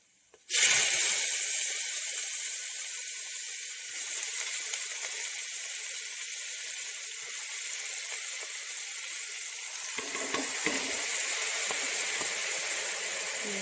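Sliced onion dropped into hot oil in a pan for a Kerala egg curry, a sudden loud sizzle that settles into a steady, close frying hiss, swelling again near the end.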